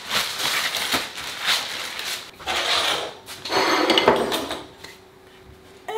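A refrigerator door opens and closes while apple tart dough is put away in a home kitchen, giving a string of knocks, rattles and hard thumps with short pauses between them.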